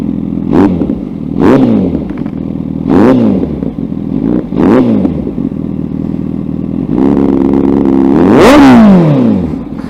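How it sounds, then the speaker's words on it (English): A 2017 Honda CBR1000RR Fireblade four-cylinder engine revs repeatedly in sharp bursts through an aftermarket exhaust, each rise and fall of the exhaust note loud and close, ending in a longer, higher rev. "It's the most Italian sounding 4-cylinder with this exhaust pipe I've ever listened to."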